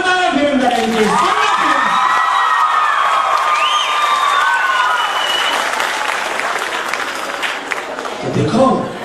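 A large crowd applauds loudly and cheers with whoops to welcome Gorkhaland Territorial Administration chief Bimal Gurung at a rally in support of Gorkhaland, the clapping sustained throughout with a voice briefly rising near the end.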